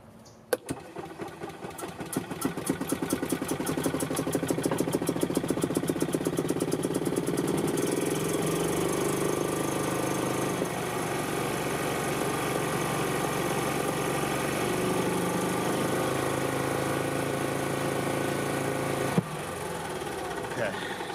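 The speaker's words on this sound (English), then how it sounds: "Now we're gonna run it with the fuel tank off because all they want to do is crank it over and get the fuel filter primed." A 2007 Club Car Precedent gas golf cart engine runs with its fuel tank removed, drawing only on fuel left in the carburetor. It gives a steady, close mechanical drone with rapid rhythmic pulsing at the start and a brief knock near the end.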